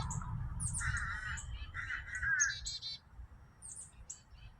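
A bird calls outdoors near a parked van, a run of shrill chirping squawks in quick bursts over a low rumbling background, then fainter chirps trailing off.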